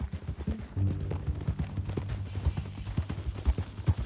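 Horse hooves clip-clop in Red Dead Redemption 2, an uneven run of close, hollow thuds under a low rumbling background, with no clear talking.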